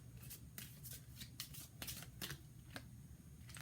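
Tarot cards being shuffled by hand, a quiet, close, irregular run of riffling snaps and soft flicks with no talk.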